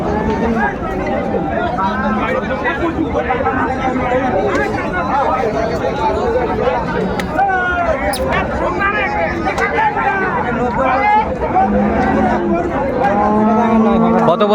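Sahiwal cattle low and moo repeatedly amid a busy crowd, with constant overlapping chatter from people throughout a noisy livestock market in Dinajpur.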